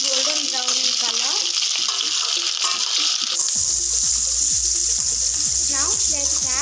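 Small onions fry in a pan as a side dish cooks, a steady loud sizzle with spoon scrapes and clinks throughout, the frying growing louder and denser partway through.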